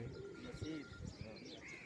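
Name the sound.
pigeons cooing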